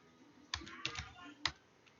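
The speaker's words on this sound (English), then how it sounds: "So we're actually going to type it back in down here." A computer keyboard is typed on for a domain name, with a few sharp keystrokes in a short uneven burst, close and clear in a quiet room.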